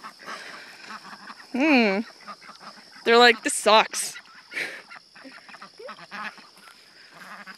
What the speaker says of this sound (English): There are ducks.